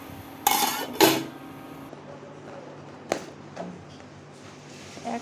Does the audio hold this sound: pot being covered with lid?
yes